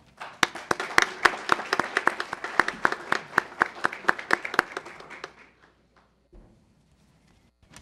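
Dense applause from an audience at an ordinary council session, honouring journalism professionals, rolls on steadily for about five seconds with sharp individual claps standing out, then fades abruptly into near silence with a faint thump later.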